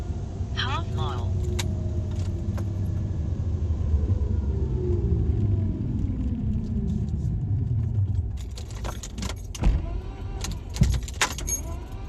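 Turbocharged 550hp BMW E46 engine droning steadily under load for several seconds, then the tone drops and breaks into scattered clanks and bangs as it fails, with a short burst of voice near the end.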